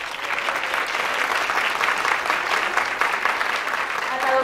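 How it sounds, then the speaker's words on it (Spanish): A round-table audience at a CEVA Pro Plan veterinary panel applauds as Dr. Tamara Iturbe is introduced, producing sustained, moderately loud clapping that stays even and dense throughout. "Tenemos en primer lugar a la doctora Tamara Iturbe, un aplauso por favor."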